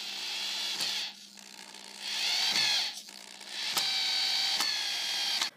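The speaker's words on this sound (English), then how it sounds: "We clamped the wood to our table and drilled in the screws." A power drill drives drywall screws into a wooden frame clamped to a table, whining in three long high-pitched bursts with short pauses and clicks between them, close and loud.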